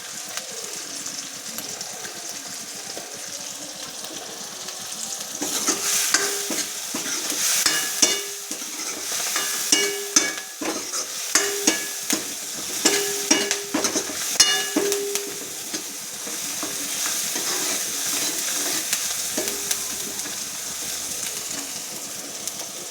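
Turmeric, dried chilli and coriander-cumin powder sauté in gravy in a pan for a green mung bean curry, a low sizzle under repeated clattering spoon scrapes and stirs that come thick in the middle, then ease off.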